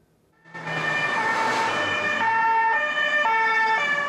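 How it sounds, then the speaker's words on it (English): Emergency vehicle sirens wail continuously at the scene of a church attack, rising abruptly after a quiet start and holding loud and steady with layered wavering tones and traffic underneath. "Today the sirens were sounding for the dead and wounded of St Etienne's church"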